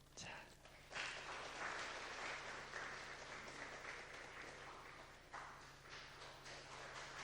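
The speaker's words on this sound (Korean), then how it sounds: "박수로 축복해 주시기 바랍니다." Applause fills a large reverberant church, steady clapping from a gathered congregation after an infant baptism, with a faint hum beneath it.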